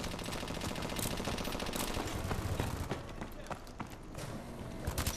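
Rapid gunfire from the Call of Duty: Advanced Warfare multiplayer game, a dense continuous rattle of shots and in-game noise that stays loud across the whole stretch.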